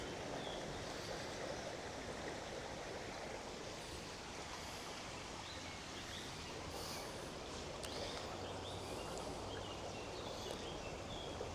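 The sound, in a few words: rivers Sieg and Werte flowing together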